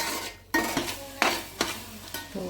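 A spoon scrapes and knocks against a pan in a few uneven strokes while turmeric, asafoetida and Malvani masala sizzle faintly underneath, for a surmai fish curry.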